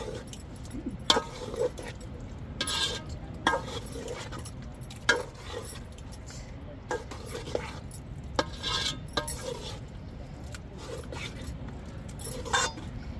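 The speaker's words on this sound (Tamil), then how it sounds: "காயோட பருப்பை நல்லா கலந்து விட்டுக்கிறோம்" Lentils and vegetables get stirred in a pot for a Tirunelveli sothi kuzhambu, giving irregular scraping and clinking of a spoon against the pot over a low, steady background hum.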